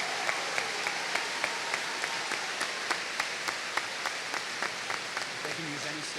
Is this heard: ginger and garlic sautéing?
no